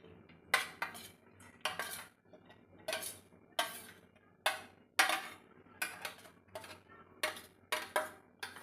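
A metal spoon clinks against a bowl in quick bursts as chopped onion and coriander are mixed for a Punjabi-style onion paratha filling, nearby and fairly quiet with short pauses between strokes.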